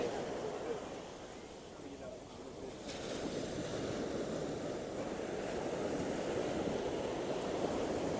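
Sea at West Palm Beach, Florida, with waves breaking out at a distance and calm water near the beach, giving a steady broad wash under gusting wind noise.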